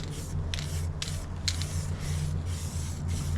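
Weld True primer hisses from an aerosol can in several short blasts with brief pauses, applied over a treated bulkhead repair panel, close and steady.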